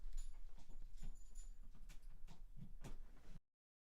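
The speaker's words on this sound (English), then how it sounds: "Trying to hold that dog in your lap." A dog whimpers and yips close by while someone holds it on their lap, a run of short, high, urgent whines over a low rumbling background, then it cuts to silence.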